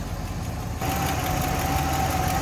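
A stock 1967 Buick Skylark convertible engine idles, a steady low rumble that grows louder and fuller partway through, with an even thrum and faint whine, heard up close without voices.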